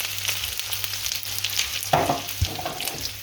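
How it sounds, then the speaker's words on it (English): Mushrooms sizzle and fry in butter in a pan, a steady crackling hiss with a few sharper stirring clatters partway through, close and fairly loud with no talking. "I'll just put the butter there, give that a little bit of swish in the pan"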